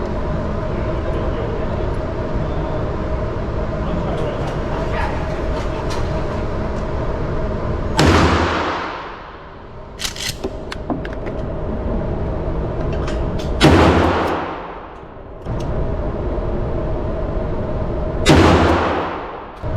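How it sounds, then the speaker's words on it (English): A 12 gauge shotgun firing slugs outdoors, three loud blasts spaced several seconds apart, each with a sharp crack and a decaying rumble over steady background noise. "I'm gonna fire 3 rounds to see what happens."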